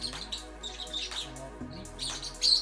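An injured lovebird chirps in short, bright tweets and small calls, scattered irregularly and close by, with no talk over them.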